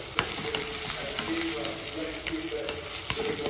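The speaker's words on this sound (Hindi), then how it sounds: "तो प्याज को हल्का फ्राई करके" Onions sizzle steadily in hot oil with cumin in a pan, a close, continuous crackling hiss broken by light clinks of stirring.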